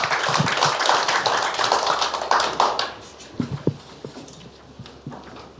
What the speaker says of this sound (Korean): 뜨거운 박수로 화답을 해주시기 바랍니다